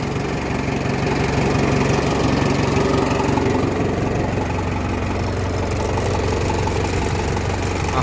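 A steady, rumbling motorcycle engine idle drones continuously at close range, even and unbroken for several seconds with no talking over it.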